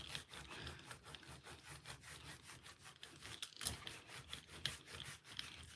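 Paint being rubbed by hand across a gel printing plate gives a close, steady run of soft scraping and rubbing strokes, with no one speaking.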